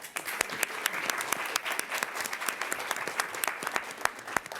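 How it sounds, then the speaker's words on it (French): A press-conference audience at the Cannes film festival claps steadily for about five seconds, dense close applause with a few sharp individual claps standing out and a faint voice underneath. "On les applaudit aussi."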